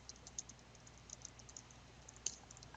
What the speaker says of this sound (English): when I type in my notes and evidence